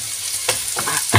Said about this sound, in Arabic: البصله كتحمر